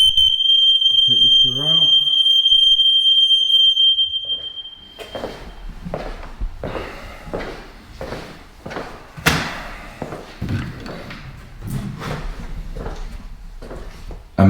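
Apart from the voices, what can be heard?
smoke alarm sounding in house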